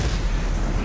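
Firebomb thrown and exploding in the video game Mad Max, a short loud burst of low rumbling blast filling the moment alone.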